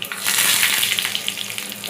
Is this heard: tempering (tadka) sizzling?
yes